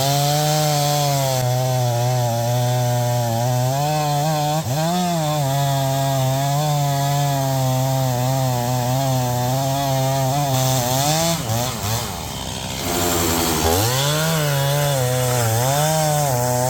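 A chainsaw on a Granberg chainsaw mill runs steadily and loud while cutting through a log, its engine pitch dipping and bogging under load in a few places before recovering.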